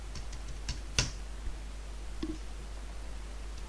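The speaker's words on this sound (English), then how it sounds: "I'm just going to type something." Scattered keystrokes on a computer keyboard, a handful of soft, irregular taps with one sharper click, over a steady low hum.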